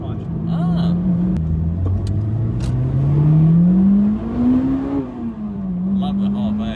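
A Honda Integra Type R DC5 engine revs steadily higher toward the red line from inside the car, a loud climbing drone that dips and settles, with people talking over it.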